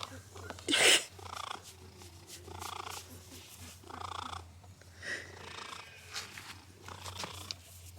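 A cat purrs softly and steadily up close, the low rumble rising and falling in slow breaths, with a brief louder burst near the start.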